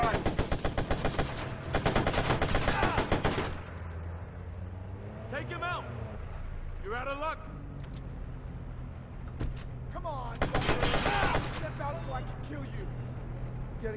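Rapid automatic gunfire from the Watch Dogs video game, a mission at Brandon Docks, rattles out in two loud bursts separated by a quieter stretch where characters shout and talk over background game noise.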